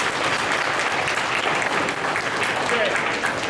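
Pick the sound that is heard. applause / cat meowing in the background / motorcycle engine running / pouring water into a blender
applause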